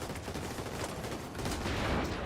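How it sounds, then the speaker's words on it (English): Rapid gunfire in the video game The Division 2, a dense, continuous crackle of shots that stays moderately loud throughout, with no speech. "I hear gunfire."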